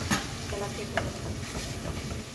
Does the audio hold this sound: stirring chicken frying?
yes